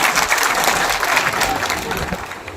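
A crowd at a Rajput community gathering breaks into loud, continuous applause to welcome an honoured guest, the clapping dense and steady from start to finish.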